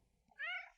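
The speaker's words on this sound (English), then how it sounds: "Sorry, that's my cat." A house cat gives a single short meow, fairly close and clear, against an otherwise quiet room.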